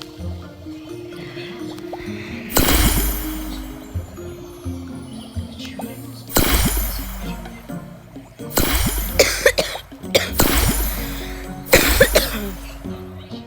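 Several coughs in a room, loud and close, come in separate bursts spaced a few seconds apart over a steady background murmur.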